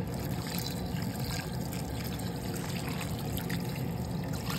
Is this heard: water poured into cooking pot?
yes